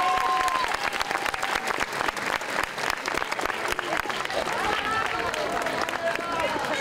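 Steady, dense applause from an audience at a wedding dress fashion show, cheering the models. Continuous clapping fills the whole stretch at full level, with a murmur of crowd voices mixed in.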